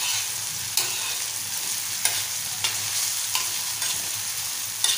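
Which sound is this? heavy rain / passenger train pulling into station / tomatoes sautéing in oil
tomatoes sautéing in oil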